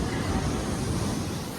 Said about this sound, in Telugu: చూడండి మస్తు పెద్దగా వస్తున్నాయి వేవ్స్ మాత్రం